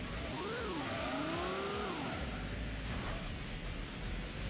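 A race car in Gran Turismo squeals its tires in a wavering, pitch-sliding skid while spinning, over a steady loud engine drone that continues after the squeal fades.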